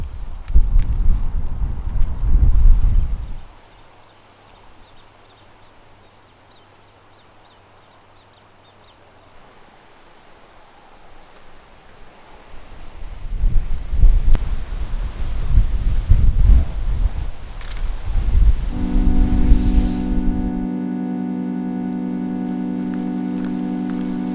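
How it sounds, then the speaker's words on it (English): Gusts of wind buffet the microphone with heavy low rumbles outdoors by lakes and mountains, easing to a quiet lull and then returning strongly. A steady tonal drone joins near the end. "it is windy, which makes everything worse"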